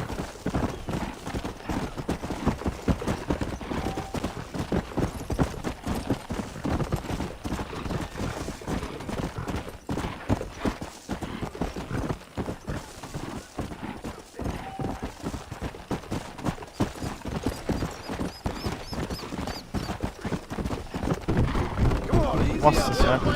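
Horse galloping in Red Dead Redemption, a steady rapid run of hoofbeats that carries on for over twenty seconds at moderate loudness, with faint other game sounds underneath.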